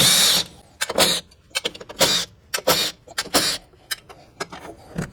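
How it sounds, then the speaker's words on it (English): Bolts are backed out of a Club Car XRT 950 carburetor with a power drill in short repeated whirring bursts, each a second or less, loud and close with brief pauses between. "Now we'll get these 5 bolts out."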